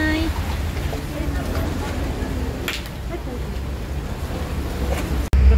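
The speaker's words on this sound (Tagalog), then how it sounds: "Grabe ang alon, no?" Off Boracay, sea waves wash and slosh around a boat under steady wind rumble. Faint voices come through, and a sharp knock lands near the end.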